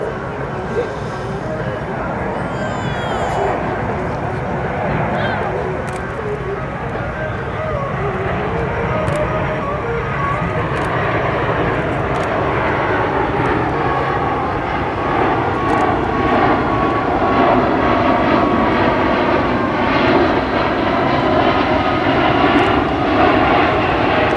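A USAF C-17 transport aircraft flies a demonstration at the 2010 Westfield International Airshow, its jet engines producing a loud sustained roar that swells and shifts in pitch as it passes, while a commentator talks over it.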